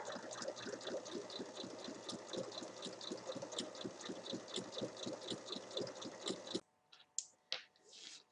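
A sewing machine stitches fabric for a dog collar, making a steady rhythmic whirring chug for about six and a half seconds before stopping, followed by a few faint handling clicks, close with no voices.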